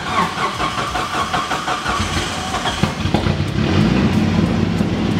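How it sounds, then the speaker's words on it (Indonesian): A Mitsubishi Evolution IV Ralliart Australia idles roughly with its old-style turbo anti-lag system firing, a close, loud engine burble with irregular pops and crackles that thickens and grows louder toward the end. "anti-lag system ini memutar paksa turbo di RPM berapapun"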